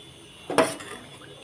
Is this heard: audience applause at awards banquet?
no